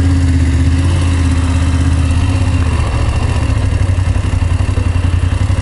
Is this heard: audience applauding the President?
no